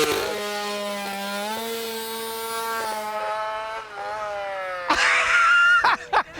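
A 50cc racing motorbike engine revs hard and high-pitched on a grassroots track, holding a buzzing drone for a few seconds before it fades, followed by loud bursts of engine or crowd noise near the end.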